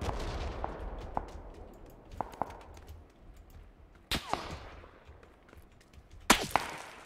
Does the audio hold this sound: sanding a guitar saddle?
no